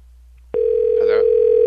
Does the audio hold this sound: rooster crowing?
no